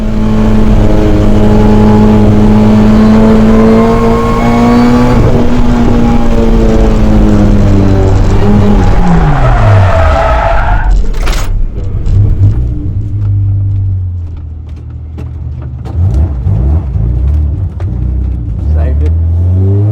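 A race car on a real circuit during a fast lap, its engine screaming at high revs with rising and falling pitch through gear changes. It then drops to a low idle rumble as it slows, loud and close throughout.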